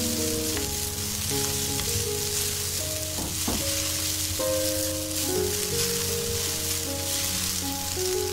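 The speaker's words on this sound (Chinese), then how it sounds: "放入韭菜，翻炒一分钟。" Chives stir-fried with garlic and chili in hot oil in a wok, steady loud sizzling and crackling with scraping stir strokes and clanks, no speech.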